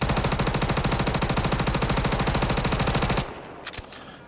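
A Behring P8 submachine gun in the Star Citizen video game fires one loud, continuous full-auto burst of rapid, evenly spaced shots lasting about three seconds, then stops, leaving a few faint clicks.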